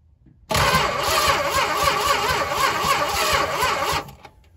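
A 1971 Dodge Charger Super Bee engine cranking steadily on the starter for about three and a half seconds, loud and close, with a rhythmic churning that never catches, then cutting off into quiet.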